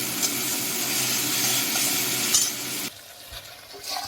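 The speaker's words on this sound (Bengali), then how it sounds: "মশলাটা আমি ভালো করে কষিয়ে নেবো" Spice paste with ground tomato is stirred and fried for a pointed gourd and prawn dish, a loud close sizzle with scraping strokes that stops abruptly near the end, leaving quieter clinks.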